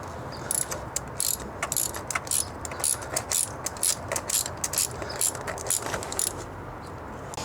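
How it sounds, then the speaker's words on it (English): A ratchet wrench turning clockwise on a spark plug socket extension while changing the plugs on a Lexus, giving a rapid run of close, crisp clicks in short repeated bursts, with no talk. "go ahead and add your ratchet and start turning it clockwise"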